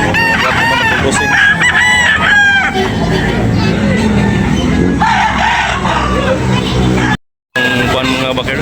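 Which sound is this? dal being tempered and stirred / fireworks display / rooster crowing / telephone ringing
rooster crowing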